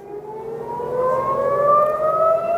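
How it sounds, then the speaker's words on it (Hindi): Air raid sirens in Israel during a rocket and missile attack wail in a slow rising tone, overlapping and growing louder across the clip, with no voices. "सिर्फ सायरन बज रहे हैं आसमान में।"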